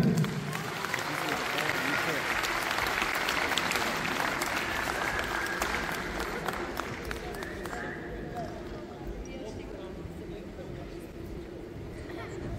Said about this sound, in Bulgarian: нека посрещнем вашите аплодисменти Вили Миленина